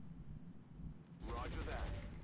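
Burst of suppressing gunfire from the turn-based strategy game XCOM Long War, a dense crackling volley that starts abruptly partway through, loud and close over low background noise.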